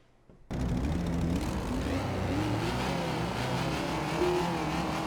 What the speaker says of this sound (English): Yeah, revving it up.